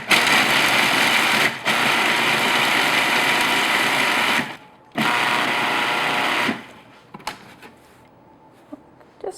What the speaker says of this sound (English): So I'm just going to process this until they're nice and finely ground.